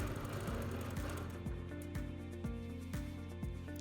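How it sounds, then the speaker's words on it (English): A sewing machine quilts fabric triangles, its needle running in a steady, rapid mechanical rhythm with regular pulses about every half second, close and fairly quiet, with no talk. "Okay, so now I'm starting to quilt the triangles"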